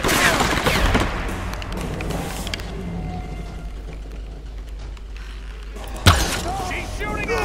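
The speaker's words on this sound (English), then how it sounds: "Yeah, she's shooting at you." Gunfire in the video game Tomb Raider 2013 cracks out loudly at the start and again near the end, with a sharp impact, while a voice talks during the quieter middle.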